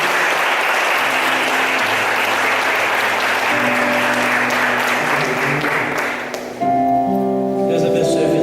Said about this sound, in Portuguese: Você pode aplaudir o Senhor pela palavra